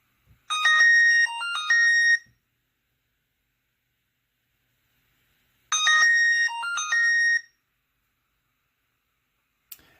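A Fitbit Versa 3's find-phone feature sets a smartphone ringing: two bursts of a bright, melodic ringtone, each lasting about two seconds and separated by silence, with a brief click near the end.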